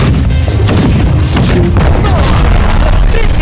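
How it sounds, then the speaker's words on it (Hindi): A cartoon cannon aboard a ship is loaded and fired, producing loud, dense, continuous booming blasts with crashing debris throughout and no clear pauses between the impacts. "जल्दी करो, एक और गोला भरो। चलाओ।"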